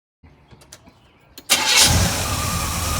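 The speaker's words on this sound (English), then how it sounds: "so we got it running with a new carb on there" A Monte Carlo SS V8 fitted with a new Holley Street Warrior carburetor cranks with a few clicks and pulses, then fires and settles into a loud, steady running rumble close by, with no talking.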